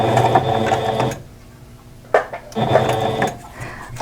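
A sewing machine stitches a decorative stitch in short bursts, close and rhythmic with a ratcheting mechanical clatter, pausing briefly in the middle before starting again.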